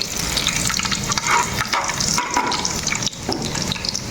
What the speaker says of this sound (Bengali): রসুনটা যখন হালকা ভাজা হবে তারপরে হলো আমি পেঁয়াজ দিয়ে দেবো